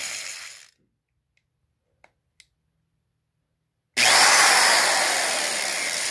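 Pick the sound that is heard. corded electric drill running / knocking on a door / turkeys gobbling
corded electric drill running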